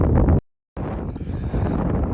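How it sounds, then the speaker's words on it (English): Wind buffeting a microphone outdoors on a farm with sheep nearby, a loud low rumble that cuts out briefly near the start, then returns steady and blustery. "Bit windy, but it's a lovely day."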